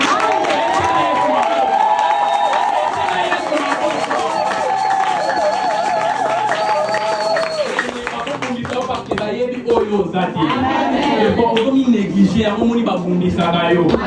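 A church congregation applauds and cheers for the Lord, loud sustained clapping with shouts and voices rising over it, the rhythm turning choppier and more percussive toward the end.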